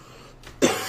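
A single sharp cough sound effect from the video game Judge CaseOh's bursts out near the end after a faint lead-in, close and fairly loud.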